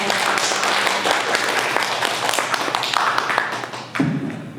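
A lecture audience at a public forum on city bus transit applauds to welcome a transport policy speaker, a dense, steady wash of many hands clapping with sharp taps throughout, swelling slightly near the end.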